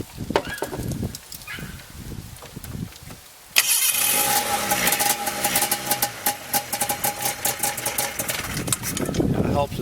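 A 1990 Ski-Doo Safari snowmobile that sat for eight years cranks and catches, its engine sound rising abruptly after a stretch of talk and handling noises, then running rough and fairly loud with some speech nearby.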